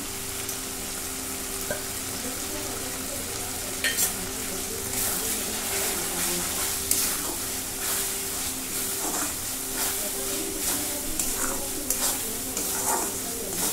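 Tomatoes sauté with Everest pav bhaji masala in a pan, giving a continuous soft sizzle with occasional clinks and scrapes of stirring.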